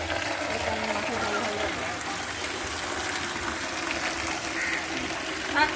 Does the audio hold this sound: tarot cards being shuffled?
no